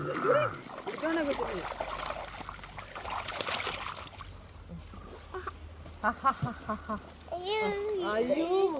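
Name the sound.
child splashing hand in water from a coracle boat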